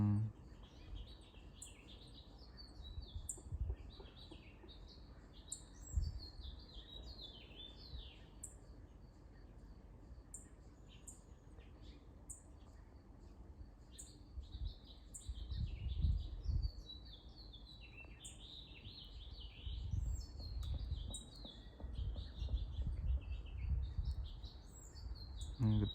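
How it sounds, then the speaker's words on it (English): Backyard birds chirp and call back and forth, repeated short high tweets scattered through a quiet outdoor scene, fairly faint, with occasional low rustling and handling thumps. "The birds are communicating."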